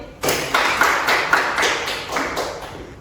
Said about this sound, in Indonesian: tepuk tangan buat Khalid